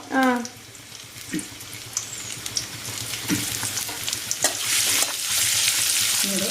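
Crushed onions and spices frying in hot oil over full flame for a Kerala Chinese-potato stir-fry hiss steadily up close, with stirring scrapes and clatter building as the sizzle grows louder.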